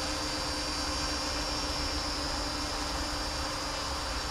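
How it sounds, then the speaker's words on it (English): High-revving 1811-3800KV electric motors on a Mini Voomer RC plane give a steady, constant whine with a sustained high buzzing tone, close and even throughout, no talking. "I love the sound of these high revving motors"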